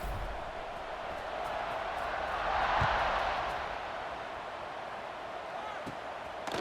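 Stadium crowd at a college football game between Purdue and the Tigers, waiting for a kickoff: a steady broad roar of many voices that swells briefly in the middle, with faint thumps underneath and no clear talk.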